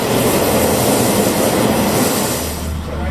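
A loud, steady rumble of a train arriving close by on the rails at Dawlish station, with a constant roar that eases slightly near the end.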